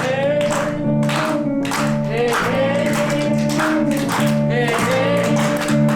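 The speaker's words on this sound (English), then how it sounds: "Stop clapping please." An audience claps rhythmically in time with a live Arabic song during a Palestinian cultural performance, loud regular beats under a singing voice and instruments.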